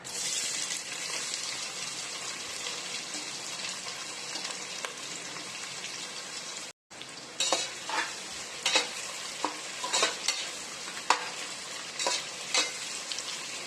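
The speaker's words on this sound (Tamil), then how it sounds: "பட்டை, கிராம்பு, ஏலக்காய், பூ, பிரியாணி இலை எல்லாம் போட்டு கொஞ்சமாக ஜீரகம் சேர்த்துக்கலாம்." Whole spices, cinnamon, cloves, cardamom, star anise and bay leaf, fry with cumin in a pan, giving a continuous sizzle and then a run of sharper clinking stirs, close up and with no voices.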